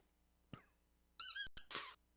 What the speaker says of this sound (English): It squeaks.